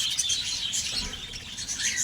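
Budgerigars kept for sale chatter in a steady stream of bright, rapid chirps and tweets, several birds close by and loud, with no voices.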